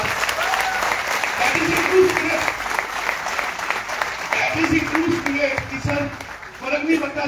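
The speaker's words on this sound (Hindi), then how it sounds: "नीचे बैठे हुए तालियां बजाइए जोरदार।" A seated audience claps loudly and continuously, the applause rising and dipping slightly while a voice speaks over it at intervals.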